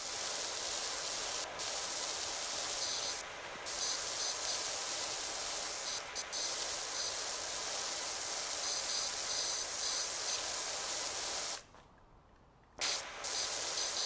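Pressure washer nozzle in a video game spraying a steady, loud hiss in a narrow jet, running continuously with brief dips and a short pause near the end.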